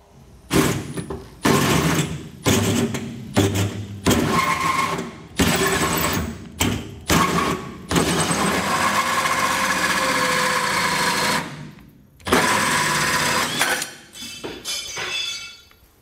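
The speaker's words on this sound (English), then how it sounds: "we're gonna take a 4-inch hole saw and we're gonna cut that out" A 4-inch hole saw cuts through the steel bed of a 2012 GMC Sierra pickup during a gooseneck hitch installation, with loud repeated grinding bursts separated by short pauses, then a long continuous cut and a few final bursts.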